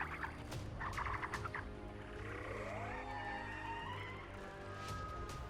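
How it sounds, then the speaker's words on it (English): In the online survival game The Isle, a Tyrannosaurus Rex fights a group of Troodons, heard as overlapping chirps, squawks and gobbling cries over low rumbling. A rising screech emerges midway, all at a moderate distance. "Only this Rex wasn't on his own, he was actually fighting a group of Troodons."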